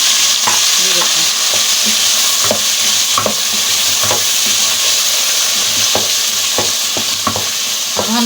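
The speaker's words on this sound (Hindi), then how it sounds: "अब मैं इसमें सारा साग डाल दूँगी अपना।" Chopped mustard greens hit hot oil with golden-browned garlic and cumin seeds, giving a loud, steady sizzle and frying hiss throughout, with scattered stirring scrapes and clatters; no one speaks.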